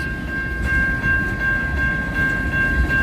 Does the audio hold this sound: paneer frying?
no